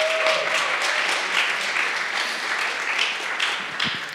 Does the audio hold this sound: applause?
yes